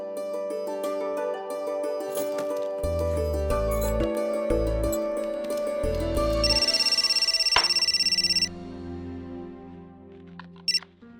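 An electronic telephone ringtone plays loudly as a repeating melodic pattern of bright tones, then cuts off abruptly, leaving a quieter tone and a brief click.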